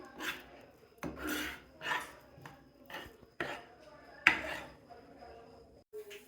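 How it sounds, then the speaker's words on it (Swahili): A utensil scraping and stirring scrambled local eggs with vegetables and a little oil in a pan, in short rhythmic rasping strokes about once a second, close and fairly quiet. "Kwa hiyo mboga nitaendelea kuvuruga."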